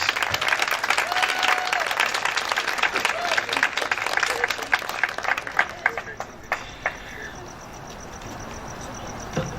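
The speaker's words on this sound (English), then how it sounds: "Let's give her a big, big round of applause." A crowd at a domestic violence event applauds a councilwoman, dense, loud clapping that gradually thins into a few scattered claps before dying away, with a faint insect-like chirp in the background.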